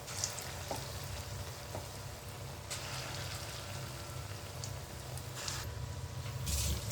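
Egg fritters (dim bora) with potato frying in a batch in oil: a faint, continuous soft sizzle and crackle at a distance, with a few light clicks and no voices.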